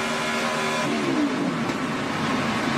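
Kyle Busch's No. 18 NASCAR Sprint Cup car on a qualifying run at Texas, its engine roaring loud and close as the pitch climbs and then sweeps lower, with no voices.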